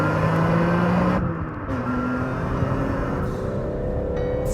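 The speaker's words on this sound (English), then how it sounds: "The thing I love, though, about this engine is that sound, that metallic, raspy sound." BMW M3 engine on a race track with a metallic, raspy note: a continuous loud drone whose pitch glides and shifts as the revs change, sustained without pause throughout.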